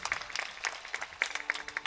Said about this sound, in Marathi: त्यांच्यासाठी एकदा टाळ्या वाजवा.